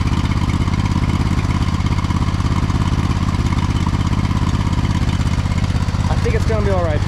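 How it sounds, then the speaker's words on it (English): An engine runs close and loud, chugging steadily with a slight uneven misfire in its rhythm. "Misfiring a little bit. Not as bad as it was before"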